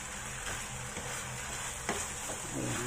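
Sliced lamb and spinach stirred in a hot pan, continuous sizzling and frying with scraping strokes of the utensil at irregular intervals, close and moderately quiet, no talk.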